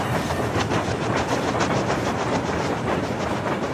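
Freight train wagons rolling on rails, loud and close, with a continuous rushing roar and a steady clickety-clack of wheels over rail joints, with no voices.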